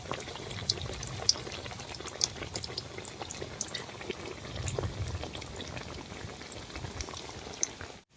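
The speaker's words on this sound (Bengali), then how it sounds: "এবার চপটাকে বেসনের মধ্যে কোট করে তেলে ছেড়ে দিই" Gram flour coated soybean chops deep-frying in a pot of oil, giving a steady, continuous bubbling and crackling at moderate level, with no one talking.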